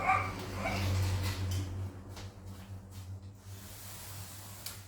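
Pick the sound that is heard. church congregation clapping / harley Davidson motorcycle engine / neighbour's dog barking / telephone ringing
neighbour's dog barking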